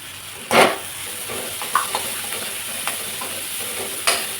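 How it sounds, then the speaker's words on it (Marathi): Food is stir-fried in a pan with salt and a ground spice paste. Under a continuous frying hiss, a few distinct scrapes and clanks of the spatula stand out, the loudest near the start. "सगळं छान असं परतायचं"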